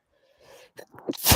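A single close, loud sneeze from a podcast host during a discussion of die-cast GI Joe toys, preceded by a short sharp inhale and building to an explosive burst.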